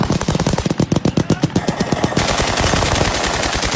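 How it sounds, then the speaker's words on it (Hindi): Heavy gunfire in Suwayda, southern Syria, a loud rapid burst of machine-gun shots in dense rhythmic succession that merges into a sustained roar of overlapping fire. "ये देखिए कितनी सारी फायरिंग एक साथ।"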